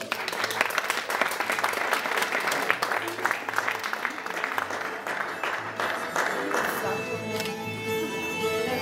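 Applause at an equestrian dressage prize ceremony at an Easter tournament, steady broadband clapping from a crowd throughout with a voice over a loudspeaker, the applause thinning toward the end.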